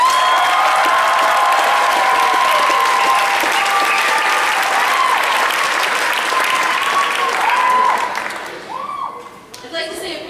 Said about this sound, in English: Can we have a big round of applause for our freshmen?